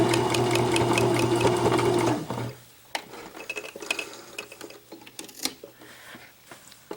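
A sewing machine stitches down the folded, thicker side of a fabric face mask, running as a steady loud mechanical whir for about two seconds before stopping, followed by scattered light handling clicks and rustles.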